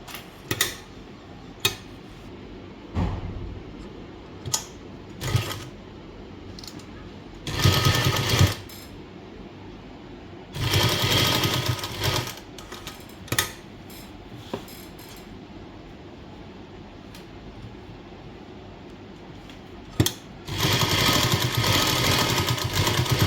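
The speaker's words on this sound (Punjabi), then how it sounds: "ਨਾਲ ਨਾਲ ਸਲਾਈ ਮਾਰ ਲੈਣੀ ਹੈ ਬਸ ਇਹਦੀ" A sewing machine stitching a lace neckline, running in several short bursts of rapid whirring stitches separated by pauses and ticks, close and fairly loud.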